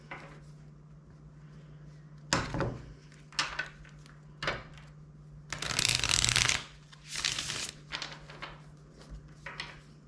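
Tarot cards are shuffled in several short bursts close to the mic, riffling and sliding with pauses between, the longest burst dense and bright, with no talking.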